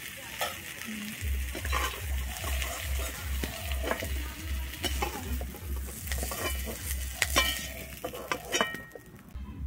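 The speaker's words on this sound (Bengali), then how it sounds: "আমি ফুলকপিটা কিন্তু লাল করে ভেজে নিয়েছি। এবার আমি কপিটাকে তুলে নিচ্ছি।" Red-fried cauliflower is lifted out of hot sizzling oil with a spatula, and the steady frying hiss carries clinks and scrapes against the pan before it thins out at the end.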